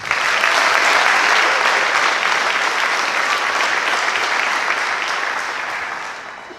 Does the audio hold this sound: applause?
yes